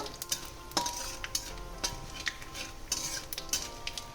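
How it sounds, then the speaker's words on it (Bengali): Dried chillies and bay leaf with five-spice seeds fry in hot oil as a soft sizzle runs beneath sharp spoon clinks and scrapes against the pan, scattered and irregular, with no speech. "শুকনো লঙ্কা, আর দিয়ে দেবো 5 ফোড়ন।"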